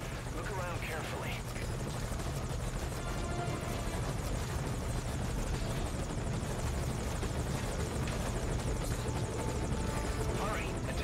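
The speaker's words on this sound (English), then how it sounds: "Hurry, attack aircraft still inbound." Attack aircraft in Metal Gear Solid 5 Ground Zeroes flying overhead, a steady loud rotor-like roar and engine drone running throughout, with a voice speaking over it.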